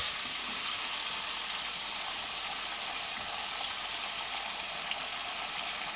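Pieces of alligator fry in hot oil over a camp stove in the Everglades, with a steady, dense sizzle that runs evenly and loudly throughout and no voices.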